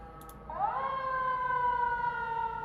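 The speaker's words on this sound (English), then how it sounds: "Another ambulance." An ambulance siren passes outside, a steady rising then sustained wailing tone that swells in from faint and holds fairly loud, heard from indoors.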